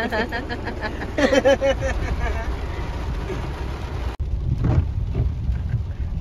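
Rain heard from inside a vehicle driving through a downpour on the road from Sitapur to Kanpur, a steady broadband wash under continuous talk.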